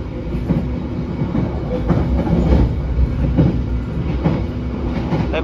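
The KA Harina passenger train runs straight through a station: a loud, continuous rumble with rhythmic clickety-clack of wheels over rail joints, heard close, from on board.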